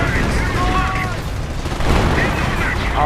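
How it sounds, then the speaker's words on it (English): Artillery barrage in the World War II strategy game Company of Heroes, rolling booms and crackling impacts layered under a steady battlefield din, with a voice talking over it. "here's where he launches artillery"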